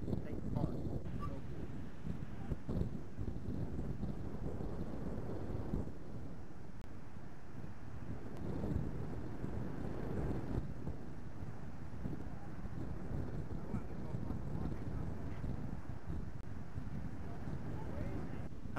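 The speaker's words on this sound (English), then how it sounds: "it's a little bit windy." Steady wind buffets the microphone with a constant low rumble throughout, while people talk over it outdoors at Indiana Dunes State Park by Lake Michigan.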